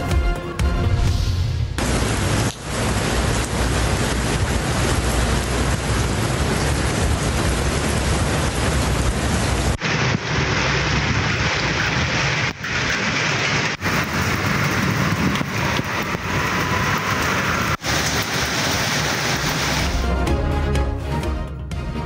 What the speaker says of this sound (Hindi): इस्लामाबाद के मुख्तलिफ इलाकों में कहीं तेज़ तो कहीं हल्की बारिश